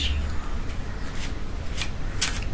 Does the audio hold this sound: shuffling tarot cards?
yes